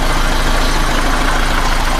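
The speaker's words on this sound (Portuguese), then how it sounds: "o motor muito macio, redondo, ele está frio, mas esse carro está muito bem regulado" A cold Chevrolet Monza Hatch SL/E 1.8 alcohol engine from 1985/86 idles smoothly and evenly, a loud, close, steady hum with no voices.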